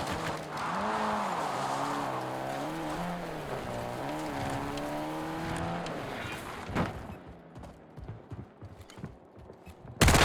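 A vehicle in Call of Duty Warzone drives nearby with a loud engine rising and falling in pitch through gear changes and a tire skid. The engine then fades into scattered impacts and rumble, with a sharp burst at the very end.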